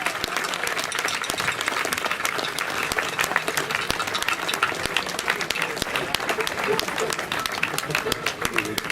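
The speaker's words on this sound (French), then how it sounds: "Allez, on les applaudit." A crowd at an outdoor arena folk dance festival applauds the dancers, dense loud clapping sustained throughout with scattered sharp individual claps and a faint murmur of voices beneath.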